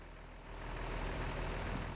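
A Mini John Cooper Works Countryman engine idling in Forza Horizon 4, a steady low rumbling drone that grows slightly louder and then holds evenly with no voices.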